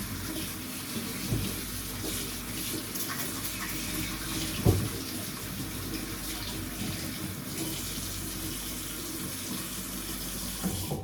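Tap water runs steadily into a sink while a kitchen cloth is rinsed out, a continuous hiss of flow broken by a couple of soft knocks.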